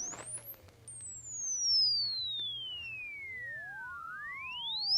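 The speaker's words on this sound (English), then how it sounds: "this app runs through the full gamut of frequency that these headphones produce for 2 hours" Pure electronic sine tones from a headphone burn-in app sweep smoothly up and down in pitch through Moshi Clarus in-ear headphones, two sweeps crossing each other, clean and steady without any voices.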